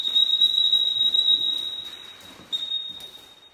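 A dog training whistle blown in the field, a thin piercing high tone held steady for a long stretch, briefly broken and then resumed, with faint outdoor background and no talking.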